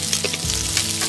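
Small onion pieces and curry leaves frying in hot oil for temple-style ven pongal, a steady close sizzle with faint stirring, no talk.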